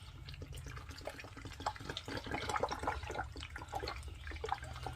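Water pours into the wide-topped reservoir of a hydration backpack, a close, gurgling, splashy stream that grows fuller and louder as it fills.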